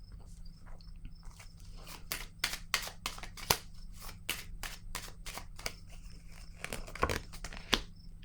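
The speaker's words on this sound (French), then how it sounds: "on va piger une autre carte." Cards are shuffled, flicked and drawn from a tarot-style deck, producing a run of crisp, close paper snaps and riffles in irregular bursts over quiet room tone.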